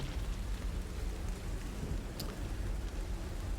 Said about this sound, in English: This torrential downpour